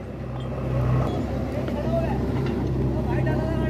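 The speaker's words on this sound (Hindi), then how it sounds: "पूरा जोर लगाते हुए दिखावेंगे ट्रैक्टर कितने जोर लगा रहा।" Swaraj 855 tractor hauling a dumper loaded with 120 quintals of soil up a steep climb, its engine droning steadily and loudly under strain with a low continuous rumble throughout.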